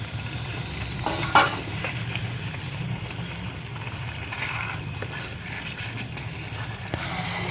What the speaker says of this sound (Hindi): मछली जैसे ही डालें तो इसको एक दफ़ा अच्छे से हिला लें